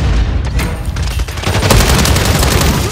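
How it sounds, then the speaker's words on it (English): A grenade blast and sustained gunfire in Call of Duty Modern Warfare 3 make a dense, loud, continuous battle roar with repeated shot bursts throughout. "Fire grenade!"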